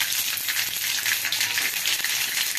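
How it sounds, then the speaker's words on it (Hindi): Khaman fries in a pan with a bright, continuous hissing sizzle, close and fairly loud, with faint clinks underneath. "अभी मैं खमन को फ्राई करने वाली हूँ।"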